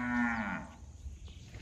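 A dairy cow gives one loud, close moo that sags in pitch over about half a second as the herd is brought in for milking, followed by faint farmyard background.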